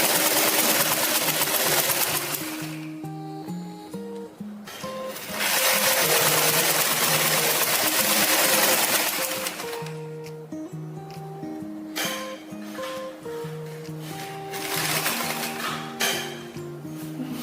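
A sewing machine stitches a seam along fabric with a half-centimetre edge, running in steady bursts with pauses, close and fairly loud over faint background music.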